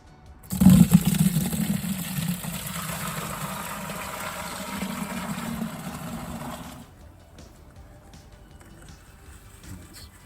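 Wine from Pinot Noir grapes gushes steadily into a fermentation barrel for about six seconds, starting with a heavy splash and then stopping abruptly.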